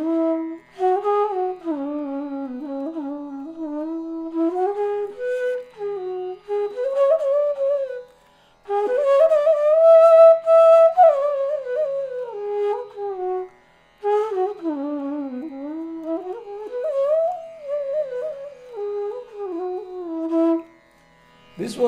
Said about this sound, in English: is rag Janasam Mohini, which sounds like this.